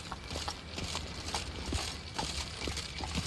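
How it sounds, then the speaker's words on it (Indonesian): Horse hooves clip-clopping in a steady, fairly close rhythm in the video game The Witcher 3: Wild Hunt, with a faint whinny-like cue and soft background game ambience. "Ada suara kuda guys."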